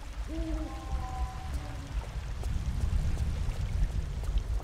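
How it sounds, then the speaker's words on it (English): A waterfall in a Tomb Raider game setting: a steady, moderately loud rush of falling water that keeps going throughout, with a few brief tonal chimes near the start. "A nice waterfall feature"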